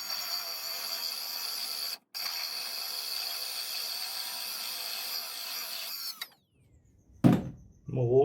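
Milwaukee power drill running with a pilot bit, a steady high whine held for several seconds, then stopping, followed by a few short clunks and handling noises nearby.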